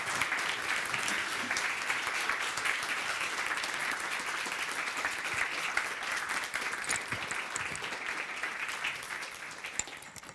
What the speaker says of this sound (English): I suggest you give both John and Karen an applause one more time